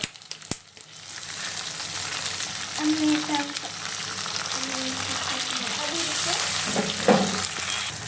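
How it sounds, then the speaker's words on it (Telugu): Chicken curry masala with tomato sizzles and fries steadily in a pan, its broadband crackle running the whole time with occasional stirring scrapes and clinks close by. "చూడండి ఎలా పడుతుందో, చూడండి ఎలా ఫ్రై అవుతుందో"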